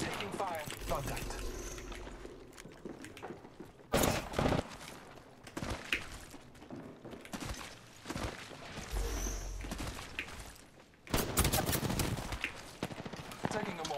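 Bursts of gunfire from the Apex Legends video game, sharp loud volleys near the 4-second mark and again around 11 seconds, with scattered shots between, over game sounds and a player talking.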